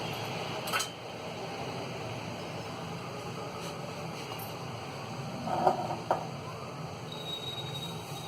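A cooker pot set down on a gas stove in a home kitchen gives a couple of brief metallic clanks over a steady background hiss.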